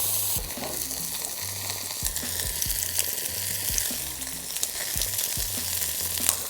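Fish frying in oil in a hot pan over fire at a Caribbean beach, a steady loud sizzle running throughout with repeated thuds and scrapes as the fillet is pressed down and stirred.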